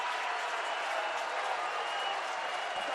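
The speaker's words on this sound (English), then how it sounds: "listen to the crowd" A rugby league crowd at a Sheffield Eagles finals game roars and cheers in a steady, sustained wash of noise from a large stadium audience.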